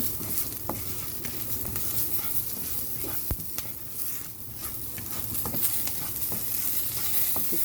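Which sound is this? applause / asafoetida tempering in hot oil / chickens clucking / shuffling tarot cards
asafoetida tempering in hot oil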